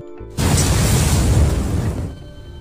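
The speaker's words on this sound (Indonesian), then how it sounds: "alat pemicu itu bekerja dan ledakan pun terjadi" A loud explosion erupts suddenly, a deep booming roar that rumbles for a couple of seconds before cutting off.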